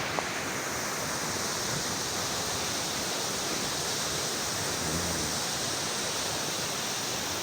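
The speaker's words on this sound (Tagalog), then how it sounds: "Itong tapa o ilog na pinukunan ng tubig para sa kabahayan." River water flows near a dam in a steady, broadband rush, a constant close wash with no voices and a faint tap or two at the start.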